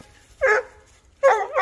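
A Blue Gascon coonhound puppy barks twice beside a creek in Texas on a coon hunt, two loud, close, bawling barks separated by a pause of about half a second, with no talk over them.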